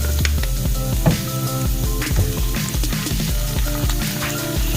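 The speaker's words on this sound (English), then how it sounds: "Garlic got a little water in it, so she's gonna be popping a little bit." Garlic with a little water on it sizzles and crackles in a hot pan, a steady frying hiss with scattered small pops.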